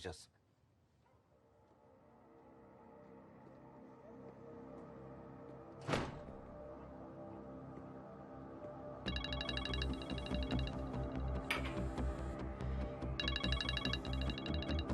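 A phone ringtone plays loudly in a police commissioner's office scene from a TV series. It starts around the middle of the clip as a dense, repeating electronic melody. A sharp thump comes earlier, and faint room sound runs underneath.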